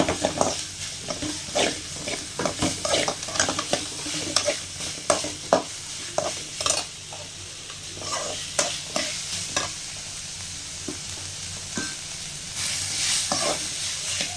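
Sliced onions sautéing in a pan over medium heat for a chicken dish, with a steady sizzle and repeated stirring scrapes of a utensil against the pan throughout, close and fairly loud, no talking.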